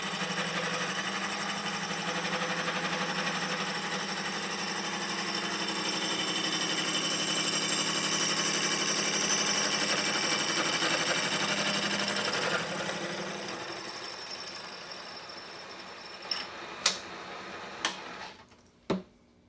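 A Miter Buddy tube notcher running at 660 RPM cuts a tapered bicycle frame tube, a steady machine whir and cutting drone that fades, followed by a few sharp clanks.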